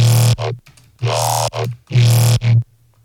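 A heavily distorted custom wavetable synth, filtered through a low pass and shaped by an EQ formant, plays three gritty, vowel-like stabs over a deep droning bass in a steady repeating pattern, loud and up close.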